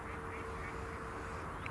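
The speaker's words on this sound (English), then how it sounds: "You can hear a duck quacking away in the background." A duck quacks faintly in the distance over a steady, low outdoor hum at a lake.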